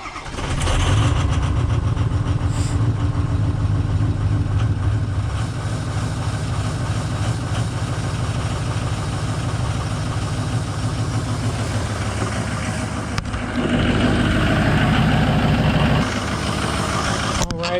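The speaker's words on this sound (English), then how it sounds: "We got an exhaust leak because I forgot to put the exhaust pipe back on. So that's what that hissing sound is." A Powerstroke diesel bus engine cranks over and settles into a loud, rough idle with a hissing exhaust leak from a missing exhaust pipe, running steadily before a brief change in pitch near the end.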